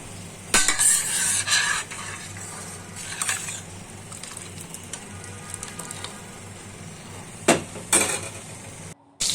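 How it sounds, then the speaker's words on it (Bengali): A spoon stirs onions frying in a pan, with repeated scraping and clinks over a steady soft sizzle, close and fairly quiet. "আর একটু চামচ দিয়ে নেড়ে নেবো"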